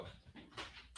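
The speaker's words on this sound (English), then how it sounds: "I did hear a dog." A dog barks or whimpers in short, faint bursts, three or four quick yelps spaced across a second, with no talking over them.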